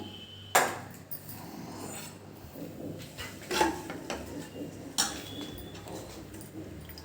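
A metal spoon stirs food in a pot with a lemon juice mixture, making sparse, close metallic clinks and scrapes against the pot with quiet gaps between them.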